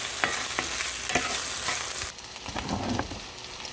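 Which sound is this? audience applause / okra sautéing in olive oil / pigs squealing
okra sautéing in olive oil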